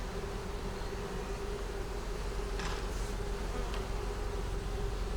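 Honeybees in a double-deep five-frame hive with stores and larvae make a steady, dense buzz that hums on throughout, with brief faint rustles partway through.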